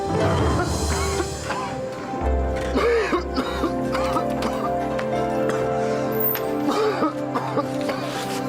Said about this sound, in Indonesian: Dari kemarin kamu batuk terus.